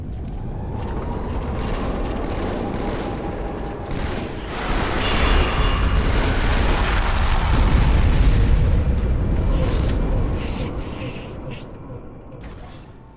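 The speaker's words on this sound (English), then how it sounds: "we can hear the Mac cannon firing" In the Halo 2 video game, the MAC cannon fires with deep, rumbling booms that build and swell over several seconds, a heavy low-end roar with mechanical clatter, loud and sustained before easing off.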